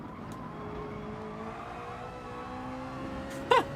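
Citroen race car in the GT Sport racing game speeding down a straight, a steady engine drone with rising tonal whine, carrying on evenly throughout, with a short sharp burst near the end.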